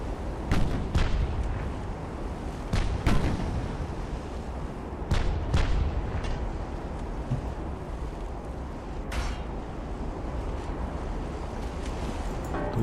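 Warship guns fire in a battle in Ultimate Admiral: Dreadnoughts, several sharp booming salvos spaced a few seconds apart over a steady rumble of sea and engine noise.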